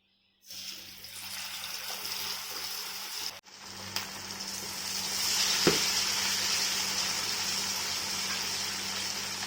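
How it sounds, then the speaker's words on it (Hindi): Chicken lollipops drop into hot oil for deep frying, setting off a loud, steady sizzle and bubbling hiss after a brief silence and a clunk, with one sharp pop midway. "तेल हमारा गर्म हो चुका है। इसके अंदर चिकन ऐड करनी है।"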